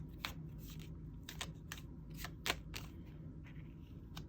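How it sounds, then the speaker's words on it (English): Tarot cards are shuffled repeatedly, with crisp riffling bursts in an irregular rhythm at close range, no voices. "that was a lot of shuffling"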